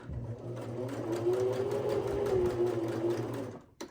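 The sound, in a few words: sewing machine backstitching a rope bowl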